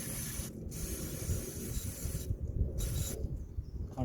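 Electrical contact cleaner hisses from an aerosol can onto a Toyota Corolla's mass airflow sensor in three close, loud bursts, with brief gaps of quiet between them.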